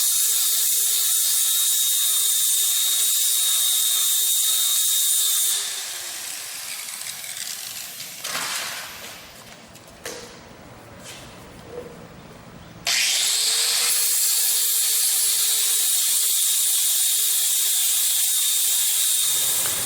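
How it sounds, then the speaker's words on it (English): Angle grinder sanding down epoxy-filled cracks in a shop's concrete floor: loud, close high whine that spins down, pauses briefly with a quieter interval, then spins back up to full speed, no talking. "Eric used the angle grinder to sand down all of the cracks"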